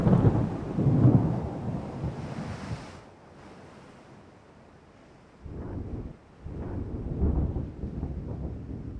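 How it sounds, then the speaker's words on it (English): A full-on thunderstorm at sea in the naval warfare game Ultimate Admiral: Dreadnoughts: rumbling thunder, wind and rain roar loudly, ease into a lull, then surge back in heavy waves. "It's a full-on storm."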